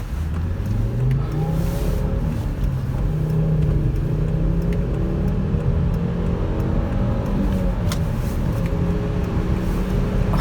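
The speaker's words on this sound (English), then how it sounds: "We'll take it up here and see if we can't do a little freeway sprint real quick." A Volvo V50 T5 AWD with a six-speed manual accelerates hard on a freeway, its turbocharged engine droning loudly and steadily rising in pitch under constant road and wind roar.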